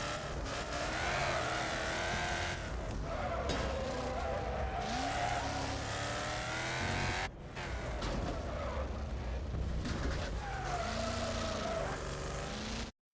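NASCAR stock cars racing in Wreckfest: a loud, continuous engine roar rising and falling through gear changes, with tire squeal and a brief drop-off partway through before the revving resumes.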